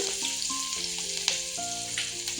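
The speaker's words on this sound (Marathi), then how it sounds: "आता अद्रक टाकून घेऊया तेलामध्ये, त्यानंतर हिरवी मिरची," Ginger, green chili and garlic sizzle steadily in hot oil, a continuous close frying hiss with a few light stirring scrapes and no talking.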